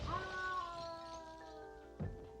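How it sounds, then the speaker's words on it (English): A cat in the horror film V/H/S (2012) lets out one drawn-out, falling meow at close range, followed by a short dull thud near the end. "until he's tracked down by that pesky cat"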